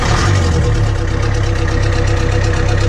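A Land Rover Series 3 engine idles steadily nearby, a loud continuous low rumble with an even mechanical beat and no voices over it.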